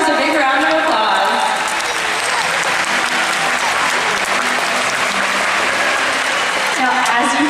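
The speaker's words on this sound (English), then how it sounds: "Give yourselves a big round of applause." A large audience at a SeaWorld San Antonio orca show applauds loudly and steadily, continuous close clapping filling the whole stretch with crowd noise beneath.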